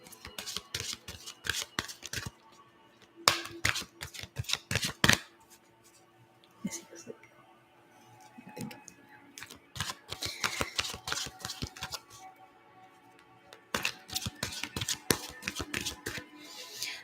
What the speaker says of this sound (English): All right, so let's shuffle these cards.